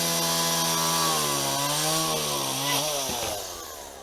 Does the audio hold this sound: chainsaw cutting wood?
yes